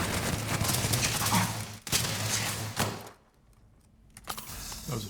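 Gunfire in the sci-fi game Starfield, with bursts of rapid shots and thuds for about three seconds, then a quieter gap before another burst starts.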